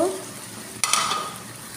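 Small puti fish and green tomatoes drop into a pan of hot oil, a steady sizzle with a sudden burst of spitting and a couple of scraping stirs in the middle.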